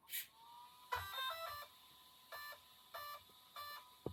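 A Losi RC dragster powering up gives a short run of electronic beeps and tone bursts, several separate chirps spaced across a few seconds, clear and close in a quiet room with no talking.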